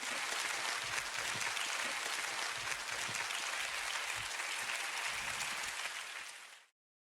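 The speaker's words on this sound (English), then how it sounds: "A big applause." Audience at a suicide-prevention congress applauds after a talk on web-based self-help, with dense, steady clapping from a large crowd that holds for about six seconds and then quickly dies away.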